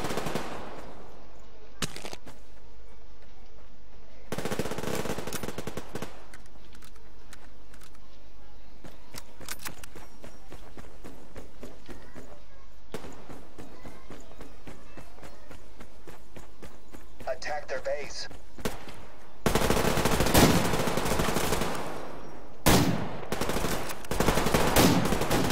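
Bursts of machine gun fire in the post-apocalyptic shooter Survarium, with several rapid volleys and a loud sustained barrage near the end, mixed with game sounds and players talking throughout.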